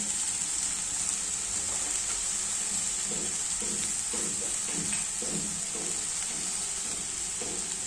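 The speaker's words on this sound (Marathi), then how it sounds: "याच्यामध्ये टाकायचं आहे हिरवी मिरची आणि शेंगदाण्याची जी भरड केलेली आहे ती टाकून घ्यायची आहे" Green chilli and coarsely crushed peanuts fry with spring onion greens in a pan, a steady close sizzle with soft stirring scrapes running throughout, no voices.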